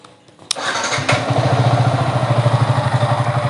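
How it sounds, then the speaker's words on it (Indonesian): A 2021 Yamaha XSR 155 retro sport motorcycle cranks briefly and fires up, then settles into a steady, close, pulsing idle with no talking. "Saya nyalakan dulu motornya."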